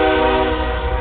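Loud, sustained train horn blaring steadily at close range for the whole moment, a rich stacked chord with no voices over it.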